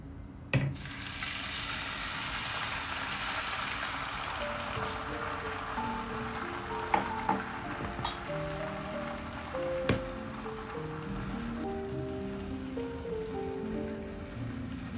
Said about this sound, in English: lightly oil the pan and start with the egg white mixture